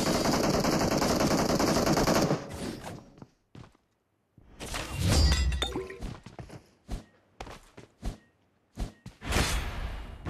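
Rapid automatic gunfire in a first-person shooter video game, a loud sustained burst followed by scattered sharp single shots and clinks, with short silent gaps between them.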